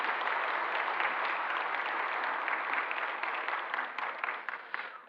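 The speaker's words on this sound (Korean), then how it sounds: "힘차게 박수로 한번 환영하겠습니다." A church congregation applauds in a steady, dense clatter of clapping for about five seconds before tapering off, moderately loud in the worship hall.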